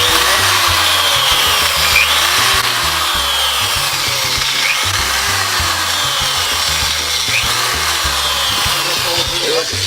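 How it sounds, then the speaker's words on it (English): A power drill bores straight holes down through a piece of wood, its loud, steady grinding whine running continuously with the motor pitch rising and falling in repeated sweeps. "these holes are drilled all the way"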